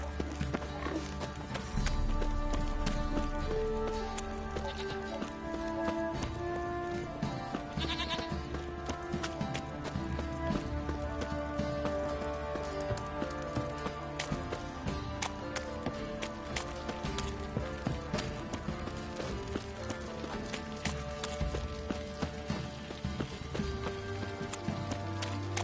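Horse hooves clip-clop and gallop in The Witcher 3, a steady rhythmic patter that runs the whole time under a dense bed of game music and ambience, loud and close.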